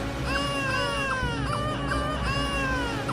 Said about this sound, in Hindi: नेहा को हर कमरे से बच्चे की रोने की आवाज आने लगी।